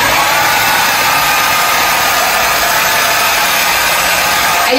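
A Conair travel-size folding ionic hair dryer runs on low heat, giving a steady, loud, close airy whoosh with a constant motor hum and no pauses.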